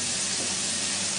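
Prawns fry in a hot pan, giving a steady, close, dense sizzle that holds evenly for a little over a second with no voices.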